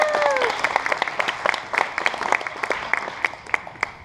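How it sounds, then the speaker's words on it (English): An audience gives a round of applause at an anniversary gathering, a moderate burst of dense clapping that thins into scattered individual claps. "give him a round of applause"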